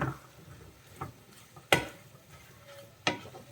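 Beef ularthiyathu stirred in a pan Kerala style, a few sharp scraping clacks of a spoon against the pan over a low steady sizzle, with a quiet pause between strokes.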